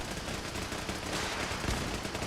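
Several turrets open fire at once during a base lockdown in Fallout 4, a dense, continuous burst of rapid gunfire held at a steady loud level for about two seconds with no talk over it.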